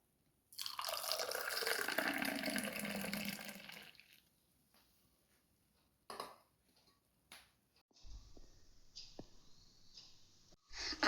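Juice poured into a glass holding two ice cubes, heard as a close, steady splashing pour for a few seconds, then faint clinks and small liquid sounds.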